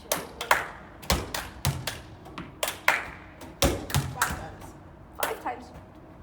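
Repeated thumps of a ball bouncing and sharp hand claps during a throwing-and-catching coordination game, landing in an uneven rhythm at close range, with a voice talking over them at times.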